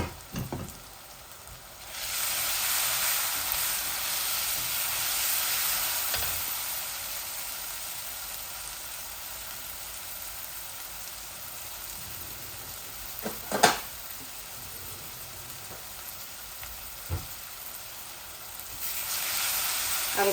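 Spices frying in a home kitchen pan, a steady broad sizzle that swells after a couple of seconds and holds, with occasional clinks of a stirring utensil against the pan.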